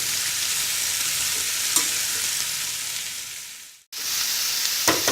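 Carrots and cabbage for road-style chowmein stir-fry in a hot pan with a loud, continuous sizzle that cuts out for a moment before it resumes.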